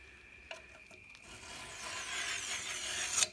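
A small oil stone rubs along the edge of a mower bed knife, faint scattered scrapes at first building into a continuous gritty rasping stroke that grows louder toward the end.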